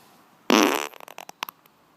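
A loud, close human fart bursts out with a strong opening blast, then trails off into a string of short sputtering pops and a couple of final small squeaks, with no talking.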